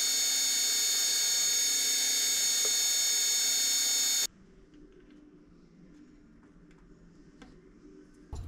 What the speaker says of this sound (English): I drill a 35mm hole through and open up room for the bearing.